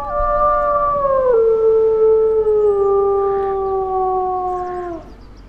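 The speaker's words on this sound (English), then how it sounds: "Let's do a little bit of a howl." A wolf in the video game WolfQuest lets out a long, loud howl, its steady pitch falling in a couple of steps before cutting off near the end, with no talk over it.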